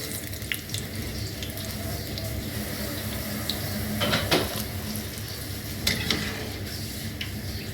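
A pot of thick kadhi curry bubbles gently while a couple of soft plops and splashes sound as pakoras drop in. No one speaks.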